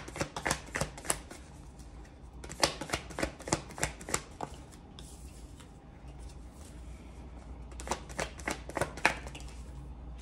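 Tarot cards shuffled by hand in repeated quick riffling bursts with pauses between, close and crisp.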